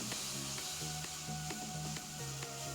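Grated pumpkin frying in ghee in a pan, a steady close sizzle with soft stirring strokes at a regular pace and faint tonal sounds underneath.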